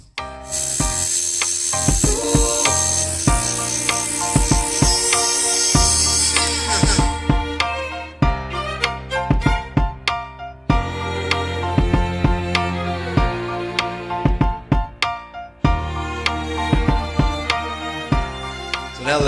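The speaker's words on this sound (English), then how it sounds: "how the Dremel tool is going to interact with the metals" A Dremel rotary tool works the metal of a Cobra putter in bursts of rattling, clicking grinding, stopping and starting repeatedly with sharp, close contact sounds and no speech.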